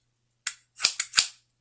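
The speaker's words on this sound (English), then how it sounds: "Scissors." A few sharp metallic snips and clicks in quick succession, close and crisp, from metal medical scissors opening and closing.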